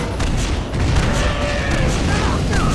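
Grenade explosions burst in the game Painkiller Hell and Damnation, a heavy boom swelling partway through over a rumbling, noisy background.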